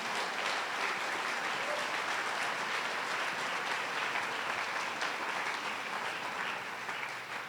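A congregation applauds during a Sunday church service, giving a hand for the King, with full, sustained clapping at a steady level that eases slightly at the very end.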